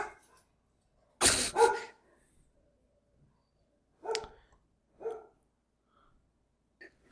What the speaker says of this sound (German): Das war nicht meine Katze, sondern das waren meine Hunde.